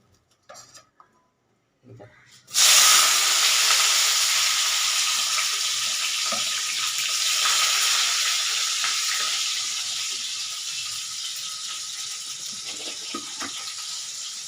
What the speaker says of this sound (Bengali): চলো পেঁয়াজগুলো ভেজে নিই